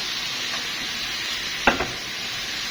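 Liver sizzles steadily in a hot pan, with a couple of brief scraping clicks of a spoon stirring it near the end; close and continuous, no talking.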